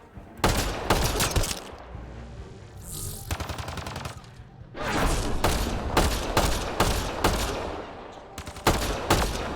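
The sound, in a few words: gunfire in Mass Effect: Andromeda video game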